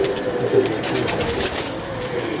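Soft pigeon cooing among a flock of Kohkar pigeons kept for flying, steady low coos under a broad hissing outdoor background, with no talking.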